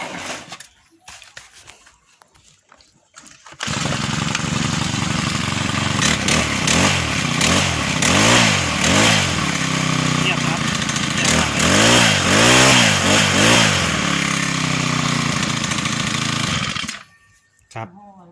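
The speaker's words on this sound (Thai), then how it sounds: "มาฟังดูว่าเครื่องมันจะสตาร์ทติดง่ายขนาดไหนแล้วก็ เงียบขนาดไหนนะครับ" A two-stroke grass trimmer engine, newly fitted with clutch shoes, is pull-started with a few tugs, then catches and runs loudly with repeated rising and falling revs before cutting off.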